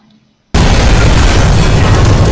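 A massive explosion in the Korean disaster film Flu erupts abruptly after near silence, a loud sustained roaring blast that fills the scene and keeps rumbling without letup.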